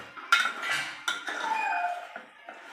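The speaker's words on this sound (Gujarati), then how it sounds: "અને હલાવી દઈશું" A spoon stirs green chickpea curry with asafoetida in a metal pot, making several distinct clinks and a ringing metallic scrape, close and clear, with no one talking.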